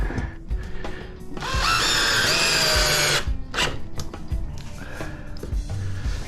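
A power drill drives stainless steel screws in one loud, close, sustained whir lasting about a second and a half, framed by quieter handling knocks and scrapes.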